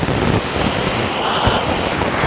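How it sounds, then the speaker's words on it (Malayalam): Loud, constant roar of rushing water from Vazhvanthol Waterfalls in a forest, heard up close, a dense wash of noise with no breaks. "ഇതാണ് നമ്മുടെ വെള്ളച്ചാട്ടം"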